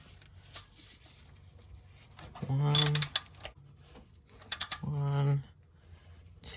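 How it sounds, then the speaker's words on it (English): Ratchet wrench tightening an oil filter or drain plug during a car oil change, two bursts of quick ratcheting clicks about two seconds apart, close and fairly loud, with a brief spoken count between them. "And you're gonna want to grab your wrench."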